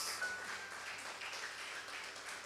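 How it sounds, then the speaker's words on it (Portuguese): A church congregation applauds steadily for several seconds, a dense, even wash of clapping heard at moderate distance with little talk over it. "Você pode aplaudir ao Senhor."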